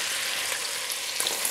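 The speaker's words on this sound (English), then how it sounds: "just move your bacon around and get that where it just slowly starts taking that fat and crisping this up" Bacon for Dublin coddle fries and renders in a pot with a constant close sizzle and faint spitting pops.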